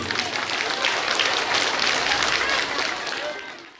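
A crowd at a village stage performance in Krishnapur claps loudly in honour, a dense burst of applause that fades at the end, with a voice mixed in.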